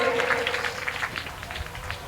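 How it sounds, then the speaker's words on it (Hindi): Audience applause at a Republic Day school gathering, a brief burst of enthusiastic clapping from a crowd, loud and close, with some voices mixed in. "जोरदार ताली"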